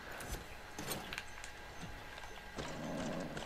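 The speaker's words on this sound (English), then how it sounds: "We got horses and everything here." Hooves clip-clop in an irregular patter in the video game Far Cry 6, fairly close, with faint ambient background noise and a brief whinny-like sound.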